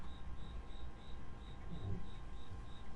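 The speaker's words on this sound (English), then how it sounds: "You can shut up, Cricket." Crickets chirp in a steady, regular pulsing pattern in the Horizon Zero Dawn video game, repeating evenly throughout over a low ambient background with no talking.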